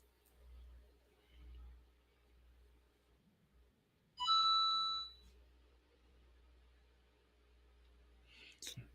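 Phone alarm signalling ten o'clock sounds one short, bright electronic chime of about a second, clear and close against near silence, preceded by faint murmuring.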